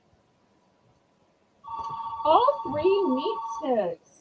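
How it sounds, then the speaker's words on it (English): A landline telephone rings with a steady electronic tone that starts partway in and runs for about two seconds while a person talks loudly over it. "For any of you who are too young to remember landlines, this is what a landline sounds like."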